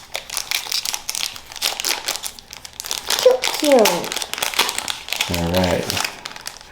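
Pokemon Silver Tempest card pack being torn open, steady foil crinkling and tearing close up throughout, with an adult and someone talking over it.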